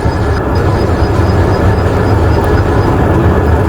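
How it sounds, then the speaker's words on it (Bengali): A fast-moving train rumbles loudly in a dense, steady roar of wheels and carriage noise, heard up close with no talking. "আর ততক্ষণ মায়ের মধ্যে একটু সাউন্ডটাও শুনতে দিব আপনাদের ট্রেনের"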